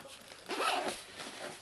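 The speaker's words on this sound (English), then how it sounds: "zip this up" A zipper closes on a small minor surgery kit pouch, one quick close zip lasting about a second with a soft fabric rasp, alone and fairly quiet.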